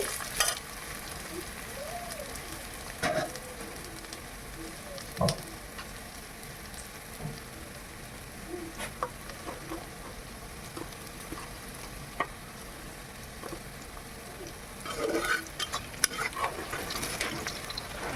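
Green chillies split open and fry in hot oil in a pan for chicken chaap, a steady close sizzle broken by occasional stirring clinks and scrapes, with no talking.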